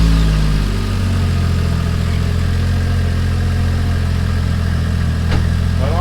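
A Toyota Chaser with a 1JZ engine and a J-pipe delete idles loud and close, giving a steady, throbbing exhaust rumble with a brief lift in revs at the start.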